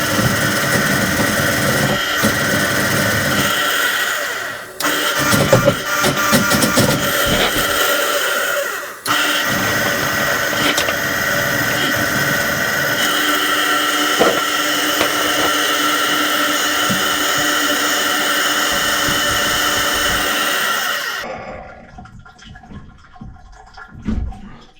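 A motorized drain cleaning machine drones loudly and steadily as it feeds cable down a plugged laundry drain, with a few brief dips in pitch before cutting off near the end, leaving quiet background.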